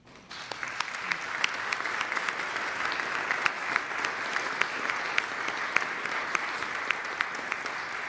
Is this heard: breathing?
no